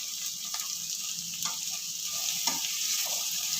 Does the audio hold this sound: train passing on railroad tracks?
no